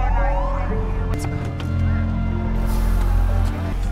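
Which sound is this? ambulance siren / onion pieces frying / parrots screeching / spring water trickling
ambulance siren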